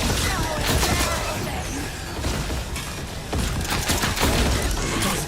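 Dense bursts of grenade blasts and gunfire from the video game Borderlands 4, a busy, loud barrage of repeated explosive crackles and impacts with no pause.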